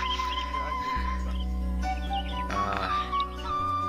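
An agitated water buffalo on a livestock farm lets out loud, drawn-out harmonic calls that rise and break across several seconds, close by, with no talking.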